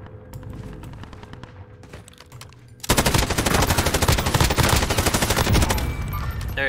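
Rapid automatic gunfire in Modern Warfare Warzone, starting as faint scattered shots and then bursting into loud, dense sustained fire that continues to the end.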